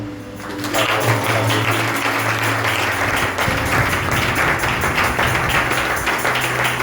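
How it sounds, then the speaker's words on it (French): A church congregation applauds in dense, sustained clapping, loud and close. It carries on evenly for several seconds, with faint voices mixed in underneath. "Nous acclamons."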